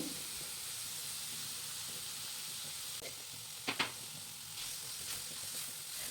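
Chillies and other chutney ingredients frying in a pan with salt, turmeric and chilli powder, a quiet steady hiss and sizzle, with a couple of brief utensil clinks partway through and no speech.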